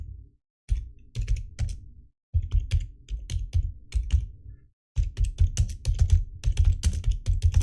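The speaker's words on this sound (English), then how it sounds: "I got a loud keyboard, sorry." Loud, clacky typing on a computer keyboard in quick bursts, broken by short pauses, with no talking.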